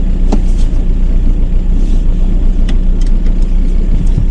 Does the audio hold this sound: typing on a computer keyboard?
no